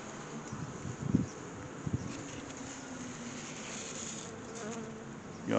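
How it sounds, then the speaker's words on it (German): Dark honeybees and a wasp buzz steadily on a honeycomb, a close, continuous insect drone with a few brief louder flurries as individual insects move near. "da ist gerade eine Wespe auf die Wabe gegangen."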